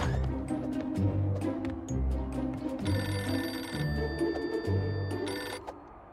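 Cartoon telephone ringing in repeated electronic bursts, a rhythmic pattern of short rings over an animated soundtrack, fairly close and clear with no talk.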